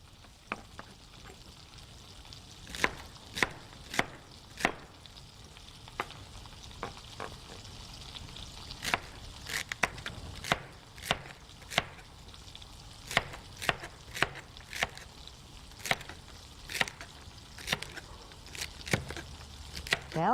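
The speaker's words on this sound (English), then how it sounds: "I'm just chopping up my celery." Celery chopped with a knife for jambalaya: sharp, fairly close knife strikes that come in irregular bursts over faint kitchen background hum, with no talking.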